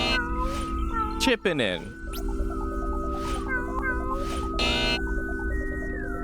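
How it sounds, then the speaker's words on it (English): Cartoon cat meowing from the video game Galaxy Pass Station, a few short meows mixed with bright electronic game music and chimes, while a person talks over it. "Now get ready for meowing in."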